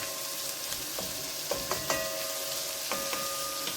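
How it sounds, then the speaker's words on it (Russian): Bell pepper simmering in a pot with meat, carrot and onion for lagman, a steady soft sizzle and bubbling with a few faint clinks, close and alone. "Добавляем болгарский перец наш. И тоже немножечко тоже потушим вместе с мясом,"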